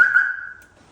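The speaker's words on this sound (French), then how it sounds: "On a activé le bip bip quand on l'ouvre et quand on la ferme." A Peugeot alarm fitted with an Audi key remote sounds a single sustained electronic beep-like tone, loud and close, fading out over about half a second with nothing after it.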